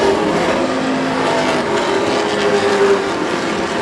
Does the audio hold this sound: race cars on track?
yes